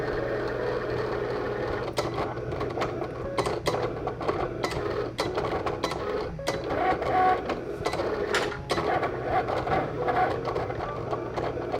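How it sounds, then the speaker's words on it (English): A Cricut cutting machine works through a sheet of pantry labels at close range, giving a steady mechanical whir with irregular clicks and brief ticks as the carriage moves, continuous for about twelve seconds with no talking. "the Cricut just finished cutting everything"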